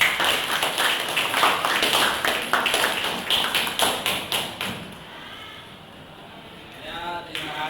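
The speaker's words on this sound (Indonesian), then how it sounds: "Tepuk tangan untuk kelompok 1" A small classroom group claps for a presenting group during a teacher-training lesson, with several seconds of rhythmic, hollow claps that die away, followed by quieter room sound and a faint voice.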